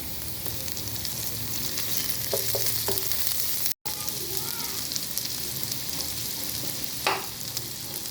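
Butter sizzles in a pan over lightly fried ginger and garlic, a steady dense hiss running throughout. There is a brief break midway and a few soft knocks and scrapes from stirring.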